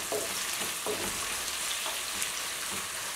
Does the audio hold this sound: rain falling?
no